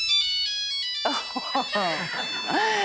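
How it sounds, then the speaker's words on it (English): A phone ringtone plays a few bright electronic tones, then a voice comes in over it with a rising, sing-song delivery, as a studio talk show discusses phones ringing. "what about when your phone rings?"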